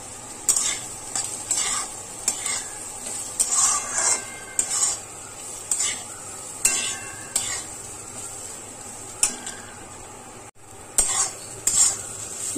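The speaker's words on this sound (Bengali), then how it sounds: "এবার ডালটাকে খুব ভালো করে ভাজতে হবে" Moong dal frying and being stirred in a pan, a steady sizzle broken by repeated scraping strokes of a spoon every second or so, close and fairly loud with no talking.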